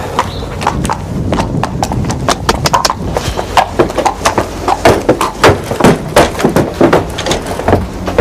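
A horse's hooves clip-clop close by on a hard surface, sharp clattering strikes that start uneven and settle into a steady walking rhythm, loud and up front.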